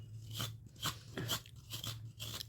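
Someone chews coconut, producing a steady run of crisp, rhythmic crunches about twice a second, close and fairly quiet over a low background hum.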